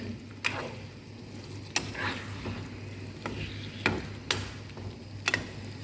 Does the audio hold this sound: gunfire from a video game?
no